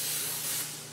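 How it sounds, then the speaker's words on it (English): Cooking spray hisses steadily from an aerosol can for about a second, a close, broad continuous spray with a slight fade at the end. "So I have some cooking spray."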